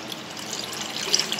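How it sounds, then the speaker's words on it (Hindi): Water poured into yogurt for bajra raab in a kitchen: a steady, soft splashing pour lasting over a second, close and moderately quiet, with no talking. "सबसे पहले दही में हम पानी डाल देंगे"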